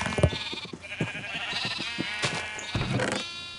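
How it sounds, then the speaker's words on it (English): Sheep bleat repeatedly in a modded Minecraft-style video game, with several overlapping wavering cries close by against a low constant background and no talk. "Just shear all the sheep and give it to me"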